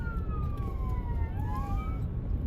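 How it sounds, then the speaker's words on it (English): Emergency vehicle sirens wail during a wildfire evacuation, several overlapping tones gliding up and down steadily over dense rumbling road and wind noise, with rocks and debris pelting a car amid heavy smoke. "Sirens everywhere."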